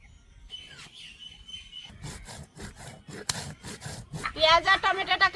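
Cumin seeds are ground by hand on a grinding stone: rhythmic scraping, rubbing strokes repeat close by, growing louder toward the end, with faint background sounds.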